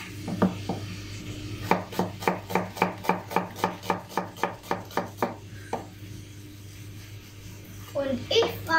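Onions being finely chopped with a knife on a board, a fast even run of about fifteen sharp close taps, with brief talk before and after the chopping.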